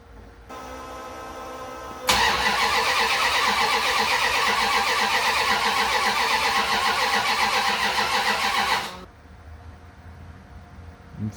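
A 1979 Dodge D100 pickup's engine cranks over with the throttle held wide open, a loud, steady whirring spin lasting several seconds from close by before cutting off, with a faint background hum before and after.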